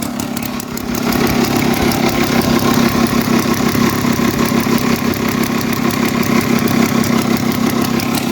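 Gas golf cart engine with a leaking bowl seal running steadily at idle, a close, continuous rough mid-pitched drone that rises slightly after the first second and holds even throughout.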